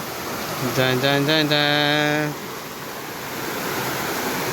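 A stream beside the path to Tada waterfall near Ubbalamadugu rushes with a steady, close wash of water, and a voice briefly calls out over it early on.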